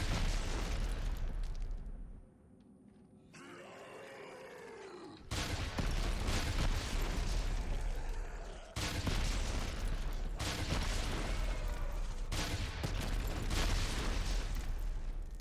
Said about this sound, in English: Really just a big ass rocket launcher. It's just 2 rocket launchers set